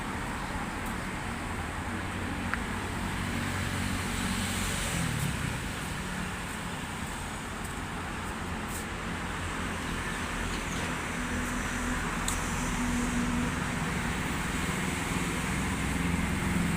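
Traffic rolls through foggy, cold Delhi, cars and motorbikes passing in a continuous roadway wash with engine drone and wind, moderately distant and without clear individual passes.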